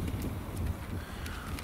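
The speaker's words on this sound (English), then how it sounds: "Hopefully you can hear me good over this wind." Wind buffets an outdoor microphone on a brisk day in northern Indiana, a rough, continuous low rumble with gusty swells over the short stretch.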